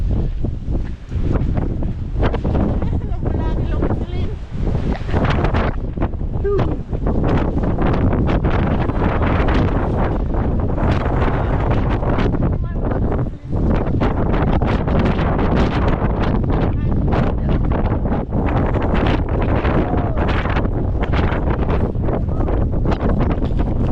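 Strong wind roars steadily across the microphone throughout, a constant loud buffeting rush with no voices.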